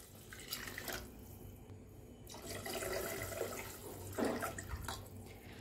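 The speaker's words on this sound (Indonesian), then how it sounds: "Tambahkan air putih." Plain water is poured into a cooking pot of spiced broth, a steady splashing and trickling stream of moderate loudness with a few brief drips and surges, no voices.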